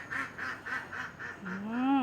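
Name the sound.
ducks quacking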